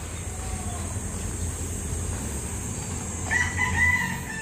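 A chicken lets out a crow with some clucking over steady, faint background hum in an outdoor spot used as a chicken pasture in Manila.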